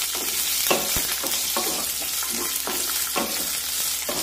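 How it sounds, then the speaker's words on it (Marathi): Garlic sizzling steadily in a pan over a medium flame while it is stirred, with brief scraping strokes every half second or so above the continuous frying hiss, close and fairly quiet. "आता यामध्ये लसूण टाकूया आणि लसूण सुद्धा छानपैकी परतून घेऊया"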